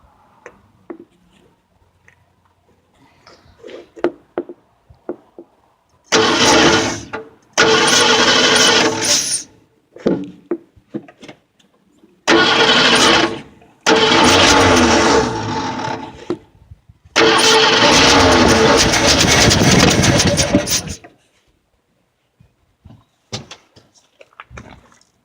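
A Ford 302 V8 cranks in loud bursts, cutting out between attempts, then catches and runs roughly in longer stretches at close range, with quiet ticking and handling noises in the gaps.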